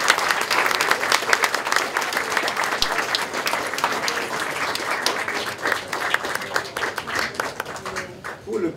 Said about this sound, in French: Je vous prierai d'applaudir